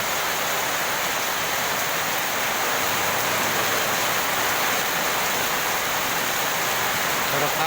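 Heavy rain pouring down steadily in Bandung, a dense, continuous hiss of water striking surfaces that stays loud and even throughout, with no breaks.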